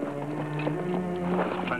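Horse hooves clip-clop in a Western scene from The Lone Ranger near a deserted barn, a run of light hoof knocks over a tonal music bed.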